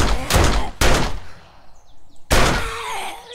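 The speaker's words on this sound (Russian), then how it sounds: "От точного выстрела в жопу она скончалась." Three sharp gunshots in the video game 7 Days to Die, fired at a chicken. Each shot is a loud burst with a short decaying tail, spaced irregularly over a few seconds.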